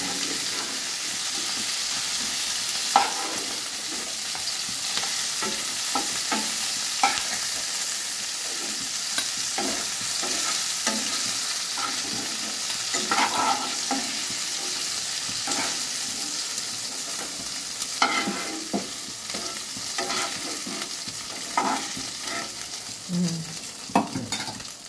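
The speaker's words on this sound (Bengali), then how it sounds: "হয়ে গেল মাছগুলো ভাজা" Hilsa fish pieces frying in oil in a pan, a continuous close sizzle with scattered spits, pops and light scrapes of stirring across a long stretch, no talking.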